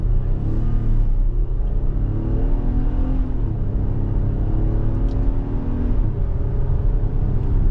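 A 2023 Infiniti QX60 Luxe AWD with a 3.5-liter naturally aspirated V6 pulls away from a stop, heard from inside the cabin as a loud, steady low rumble with rising engine tones under continuous road noise.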